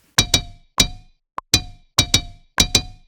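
A cowbell-like percussive hit repeats in pairs within a boom bap beat, sharp bright clanks with short decays plus a single small ping in the middle, alone and close.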